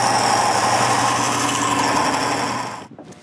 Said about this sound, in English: He cuts them on the bandsaw